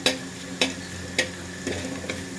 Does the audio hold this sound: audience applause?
no